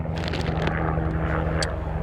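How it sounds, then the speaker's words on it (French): A gendarmerie helicopter passing over a river, its engine and rotor making a continuous steady drone at moderate distance. "On va laisser l'hélicoptère passer"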